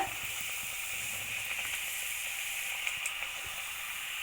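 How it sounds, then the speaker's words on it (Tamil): Sesame vadai (thattai-style ellu vadai) frying in hot oil gives a steady, even sizzle and hiss throughout, close and moderately loud, with a few faint pops and no talking. "இப்போ வந்து இது நல்லா ஃப்ரை ஆகட்டும் ஆயிலில்"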